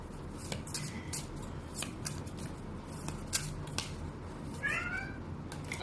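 Pet cats, one of a household of eight, roam a desk, with two short close meows and soft rustling, scratching and paper-like shuffles scattered around them.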